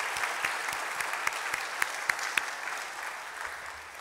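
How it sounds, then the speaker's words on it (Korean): Sustained applause from a church congregation during a Sunday service, steady clapping filling the space for a few seconds with a few sharper claps standing out. "오늘 이 시간에 모처럼 우리 큰 박수로 좀 격려를 부탁을 드리겠습니다."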